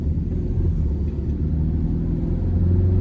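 A 2000 Nissan Frontier XE Access Cab pickup with a 2.4-liter four-cylinder accelerates, its engine giving a loud, steady low drone and rumble heard from inside the cab, with no talk.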